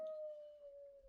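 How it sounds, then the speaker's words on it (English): A dog howls in a single sustained, steady tone held for about a second, faint and somewhat distant indoors. "Don't pay attention to my dogs"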